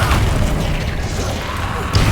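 A Bombarda blasting spell explodes in the video game Hogwarts Legacy, a loud, booming burst with a heavy low rumble that fades quickly, followed by a smaller thump near the end.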